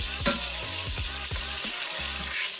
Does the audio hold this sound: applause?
no